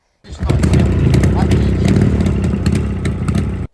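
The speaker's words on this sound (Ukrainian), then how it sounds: "Однією фінтіплюшкою можна заводити мотоцикл отак от" A Jawa motorcycle engine kicks over and runs at a steady, rough idle, loud and close, for a few seconds before cutting off.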